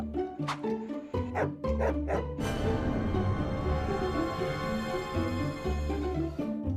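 A dog barks repeatedly in a short, choppy series in an animated cartoon, the barks giving way to a sustained loud roar-like growl that holds to the end.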